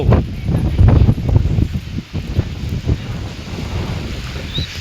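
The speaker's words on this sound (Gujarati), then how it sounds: "પવન એટલે તમે અવાજ સાંભળતા હશો પવનનો કેવો પવન છે." Strong cyclone wind tears through Bajud amid heavy rain, loud buffeting gusts that surge and dip unevenly, rumbling against the microphone, with no voices.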